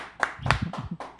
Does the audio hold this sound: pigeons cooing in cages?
no